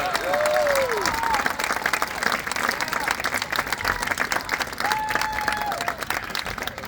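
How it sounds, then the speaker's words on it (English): Steady audience applause and crowd clapping for the Heidelberg University Marching Band at a band showcase, sustained for several seconds, with a few whistles and shouts rising over it. "One more round of applause, please, for the Heidelberg University Marching"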